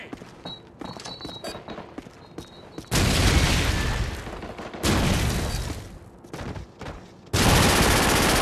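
Call of Duty Modern Warfare Reflex on the Wii erupts in several loud bursts of game gunfire and explosions, each heavy blast lasting a second or two, with quieter clicks and mechanical sounds between them.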